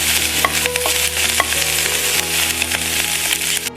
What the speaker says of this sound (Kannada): ತುಂಬ ಚೆನ್ನಾಗಿ ಎಣ್ಣೆಯಲ್ಲಿ ಫ್ರೈ ಆಗಬೇಕು ಸ್ನೇಹಿತರೆ ಇದನ್ನು